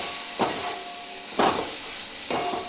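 Turmeric, ground cumin, ground coriander and Kashmiri chilli powder fry in a pan with a splash of water, giving a steady close sizzle broken by three louder stirring scrapes at regular intervals.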